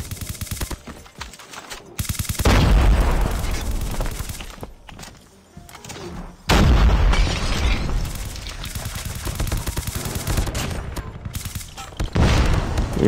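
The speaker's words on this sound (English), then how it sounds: "I'm being shot from the mid." Rapid automatic gunfire from an ICR rifle in the mobile shooter Call of Duty Mobile comes in loud sustained bursts with short pauses between, over game ambience.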